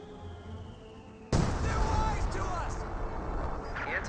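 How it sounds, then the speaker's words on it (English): A sudden loud blast of artillery fire in the World War II strategy game Company of Heroes 2 opens a rumbling barrage of explosions. Someone commentates over the battle noise. "Artillery's running on in, trying to get some hits over here."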